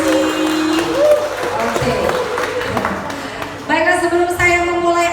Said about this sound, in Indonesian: tepuk tangan dulu ya supaya lebih meriah